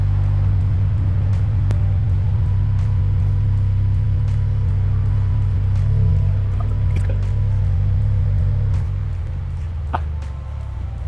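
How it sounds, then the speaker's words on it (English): A 2015-21 Subaru WRX with an MXP COMP RS catback exhaust idles steadily on a cold start, giving a deep, constant low rumble with occasional faint ticks, close by and unbroken throughout. "So as you can hear, this is the cold start."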